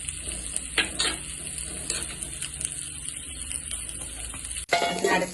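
Spinach (cheera) being stirred and turned in a cooking pan makes a steady close scraping and rustling with soft sizzle beneath, a few sharper scrapes along the way and a louder burst of stirring at the end.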